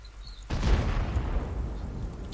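A sudden heavy boom of tank cannon fire in a video game bursts in after a quiet moment, then a long rumbling roar lingers and slowly fades.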